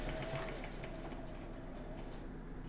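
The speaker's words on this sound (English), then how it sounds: "Sew the collar to the neckline and back tack at the beginning and end." Sewing machine stitching a collar onto a shirt neckline with back tacks at each end, a steady, fairly close mechanical whirr running the whole time with no talk.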